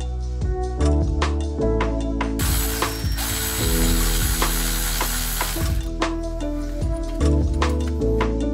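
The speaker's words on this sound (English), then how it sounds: "So we're going to go ahead and remove these bolts. I think these are E12 bolts." A ratchet wrench loosens E12 Torx bolts on the drive shaft CV joint flange of an E92 BMW M3. The pawl clicks come in rapid, close, loud bursts, with a sustained metallic rasp in the middle.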